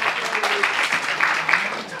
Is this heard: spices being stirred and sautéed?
no